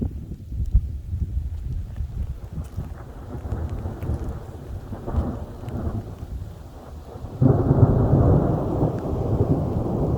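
Distant thunder from an approaching storm rumbles low and steadily under light rain and wind, swelling into a louder, closer roll toward the end.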